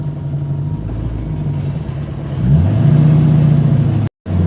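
A 1968 Ford Mustang engine running while driving, a steady low hum that rises in pitch and loudness partway through as the car accelerates, heard from inside the car without talking.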